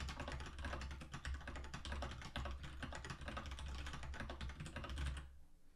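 Code is typed on a computer keyboard in a rapid, continuous patter of close key clicks, then the typing stops abruptly near the end.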